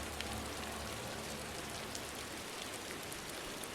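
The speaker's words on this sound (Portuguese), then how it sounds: "Choveram enormes pedras de granizo que esmagavam e despedaçavam homens e mulheres" Huge hailstones falling in a dense, steady roar of countless small impacts on a hard surface, loud and continuous like a heavy downpour, with no voices.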